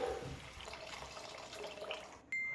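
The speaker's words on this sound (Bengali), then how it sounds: "এর মধ্যে দিয়ে দিলাম জল" Water poured into a cooking pot of spiced fried moong dal for vegetarian sago khichuri, a soft splashing gush that runs throughout and then cuts off abruptly into a quiet ringing tone.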